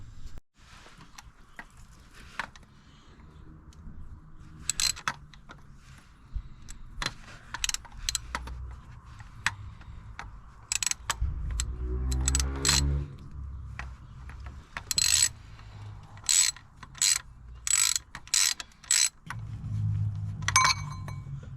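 Ratchet ticking in short bursts while 13mm bolts come out of a Nissan 300ZX twin turbo engine, with metallic clicks, clinks and a brief low mechanical whir in between, close and moderately loud, no talking.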